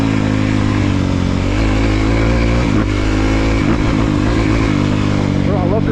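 A 2023 Honda CRF250R dirt bike engine revs loudly and steadily up close, with throttle blips and a rising, wavering pitch near the end, over constant motor drone.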